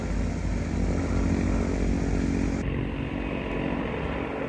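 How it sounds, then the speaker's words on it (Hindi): Eurocopter fire brigade helicopter at Grenoble airport, a loud steady engine and rotor roar holding throughout, fairly close, with a slight change in tone partway through as it passes. "वो यूरोकॉप्टर एक और आ रहा है हेलीकॉप्टर, ये भी उसी का है, पॉम्पियर का,"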